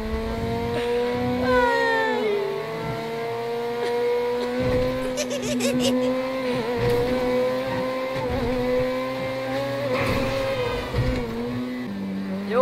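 A car engine in GTA 5 roleplay revs and accelerates away during a bank robbery with hostages, a steady droning whine with rising pitch sweeps running throughout, with faint voices beneath.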